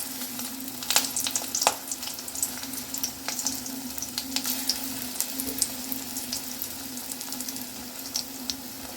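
Rajasthani mirchi vada sizzle and crackle as they fry in hot oil over medium-high heat, a steady dense bubbling with scattered sharp pops throughout, no voices.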